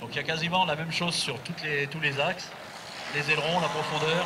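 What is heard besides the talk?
No distinct noise like a dog, phone or traffic.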